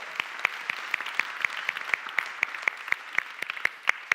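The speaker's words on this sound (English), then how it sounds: "Round of applause to everyone who was following through." An audience at an AI summit claps steadily for about four seconds. Sharp, evenly spaced claps stand out over a softer wash of applause at moderate distance, with no talking.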